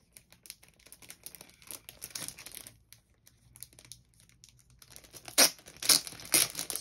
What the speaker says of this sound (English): let me take out the plastic